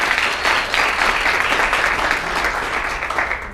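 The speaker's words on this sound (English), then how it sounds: "Everybody give her a big round of applause." An audience at a gala breaks into warm, steady applause, dense clapping from many hands filling the room without a break.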